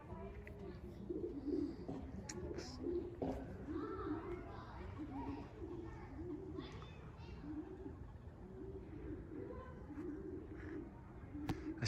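Racing pigeons coo in repeated low, rounded phrases close by during a twilight flight, with soft rustling and scattered bird chatter throughout and faint talk mixed in.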